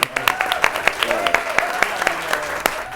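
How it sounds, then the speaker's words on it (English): A talk show audience applauds in a run of sharp, uneven claps that continue steadily throughout, with voices mixed in under the clapping. "Give that a round of applause"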